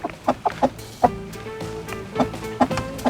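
A brooding hen sitting on hatching eggs clucks in a series of short, close, fairly loud pulses, with a few quieter gaps between bursts.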